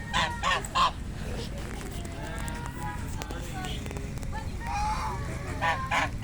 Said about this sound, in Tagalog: Yan, the duck.